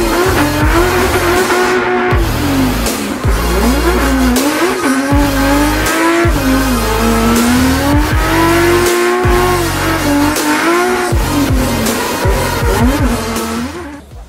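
A drift car at a round of the 2017 Irish Drift Championship revs hard with a wavering engine note while its tires squeal continuously, loud and close throughout with no pauses.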